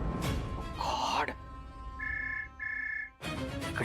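A phone rings indoors in a Marathi TV drama scene, two short electronic ring bursts at a steady pitch, fairly clear, between stretches of a woman's speech.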